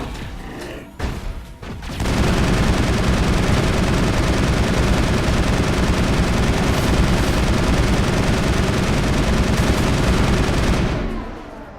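Sustained, heavy automatic gunfire against Geth enemies in the Mass Effect video game: a dense, continuous roar of shots that runs for about nine seconds after a few brief bursts, loud and unbroken until it cuts off.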